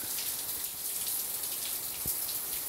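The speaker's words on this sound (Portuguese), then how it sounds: "Adoro esse som de chuva." Rain falls at two in the morning outside a house in Bocaiúva, Minas Gerais, a steady soft hiss of drops with occasional louder splashes, continuous and close.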